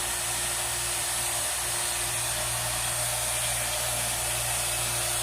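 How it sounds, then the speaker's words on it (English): A vacuum pump in a home garage drawing down a car's air-conditioning lines before an R-134a refrigerant charge, a constant, even motor drone with a steady hum and no change in pitch throughout. "That's my pump over there, my vacuum pump."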